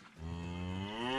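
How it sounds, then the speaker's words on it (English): Cattle on a farm give a single close, clear moo that swells and holds, rising slightly in pitch toward the end, with no other sound around it. "So looks like cows are out there figuring out the mineral already."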